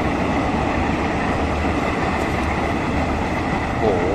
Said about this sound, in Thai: มีรถไฟวิ่งผ่านด้วยครับ